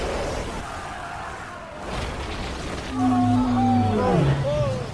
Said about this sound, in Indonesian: Mereka kemudian menyerang seekor anak paus yang membuat induknya mengamuk.